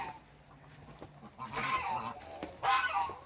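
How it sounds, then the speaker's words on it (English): A goose on a farm gives two loud, nasal honking calls a second apart, fairly close, over quiet outdoor background. "Well, there's a goose."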